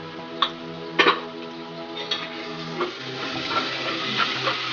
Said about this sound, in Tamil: இப்போ வந்து எல்லாத்தையும் வந்து நல்லா மிக்ஸ் பண்ணி விடுவோம்